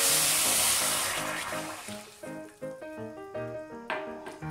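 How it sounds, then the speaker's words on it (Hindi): Water poured into a hot, empty pressure cooker while making rice kheer gives a loud, broad sizzling hiss that fades over a few seconds. Clattering and tonal ringing come in as it dies down. "कुकर मेरा गर्म हो चुका था इसलिए पानी की इसमें डालते हुए आवाज आई है"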